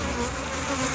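Honeybees hum in a dense, continuous drone around a beehive on a ranch, loud and close with no breaks and nobody talking.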